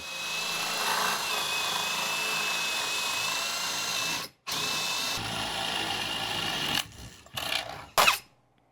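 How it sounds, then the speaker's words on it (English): A power drill boring through wood whines steadily for several seconds, stops briefly, then runs again before sputtering out in short, uneven bursts. "I'm going to try and angle my drill so that the wire comes out just about here"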